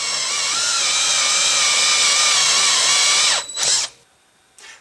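A power drill whines steadily at high speed while boring through metal, then winds down, with a brief rev and a final short burst.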